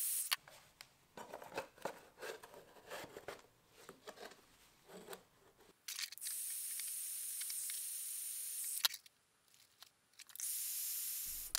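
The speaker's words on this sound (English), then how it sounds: "you can actually use a heat gun and crimp these in like they crimp in the elbows" A heat gun blows with a steady broadband hiss while shaping a metal drop pipe into a crimped end, running in long continuous stretches that break off briefly and restart, alongside scraping and handling noises earlier on.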